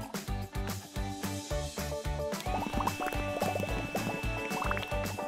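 An animated bubble machine, filled with bubble liquid and switched on, gives off a rhythmic bubbling and gurgling pulse mixed with bright cartoon tones, close and lively.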